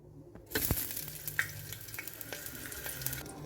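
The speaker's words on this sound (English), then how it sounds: "we put it to fry with the onion. Stir oil." Onion hitting hot oil to fry for rice with noodles: a sudden loud sizzle bursts in, then settles into a steady close crackle with scattered pops and a faint stirring scrape, no speech.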